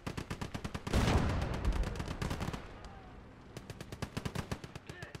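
Rapid machine-gun bursts and heavier gunshots from a Sherman tank battle in the World War II game Call to Arms Ostfront, a dense volley with a loud blast near the start, then steady rhythmic firing with voices underneath.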